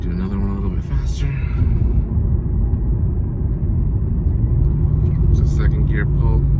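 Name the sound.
Mercedes E55 AMG engine accelerating in second gear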